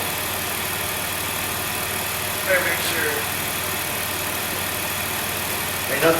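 A Dodge Grand Caravan with a 3.8 engine runs at a steady idle nearby, a loud continuous hum with two brief rises in pitch, and a voice speaks over it.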